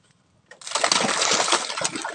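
Grouper (lapu-lapu) thrash at the surface of a fishpen while feeding, a sudden loud burst of splashing and churning water that starts after a brief quiet moment and continues steadily up close.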